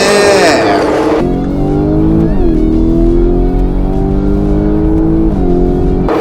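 A Lamborghini Urus and a Porsche Cayenne Turbo GT racing side by side, loud sustained engine roar climbing through gears with audible shift dips, close and powerful after a brief high-pitched whine at the start.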